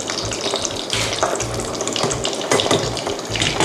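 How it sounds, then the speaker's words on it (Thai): Steady crackling sizzle of fish frying in hot oil, dense and continuous with bursts of spattering, close by and fairly loud. "จากนั้นนำปลาทูลงไปทอดเลยค่ะ"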